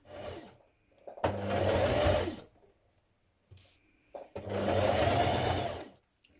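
A sewing machine stitches a shirt collar in two separate bursts of fast, close whirring, each lasting about a second or more, with quiet pauses and small handling noises between them.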